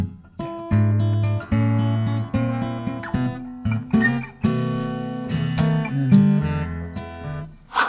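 A fingerstyle blues turnaround on acoustic guitar is played up to tempo, with plucked bass notes and ringing treble chords in a steady rhythm. The guitar is close and clear, with no voice over it.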